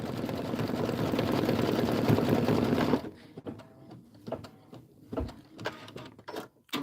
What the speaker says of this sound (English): Stitch the fence tack down.